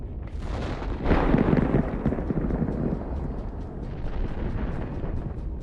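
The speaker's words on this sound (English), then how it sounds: "The heat traps ignite and explode, creating a spectacular view." A tank's heat traps ignite and explode in a combat zone. A deep, rumbling boom swells after a second, and a sustained roar of crackling fire and blasts follows, heavy and continuous.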